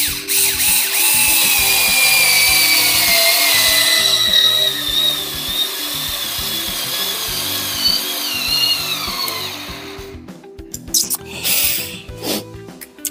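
A Parkside Rapidfire 2.2 cordless screwdriver drives a small screw with a steady high motor whine that rises and strains for several seconds, then cuts out, leaving a few faint clicks and handling noises.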